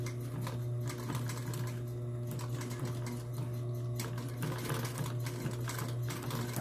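A sewing machine runs steadily at close range while stitching the edge of a cushion, its motor a constant hum with a rapid needle clatter on top and no talk.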